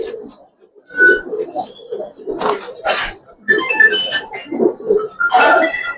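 Giribaz and coloured pigeons coo in short repeated throaty bursts close to the microphone, mixed with chirpy calls and some nearby human talk.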